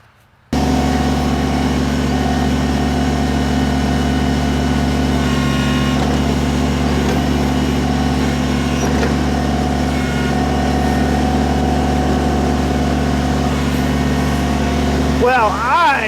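A Kubota BX23S compact tractor engine runs with a loud steady drone while its grapple thumb pulls out a small tree, with a brief whine near the end.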